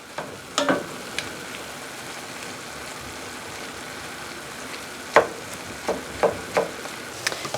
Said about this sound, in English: while that ground beef is cooking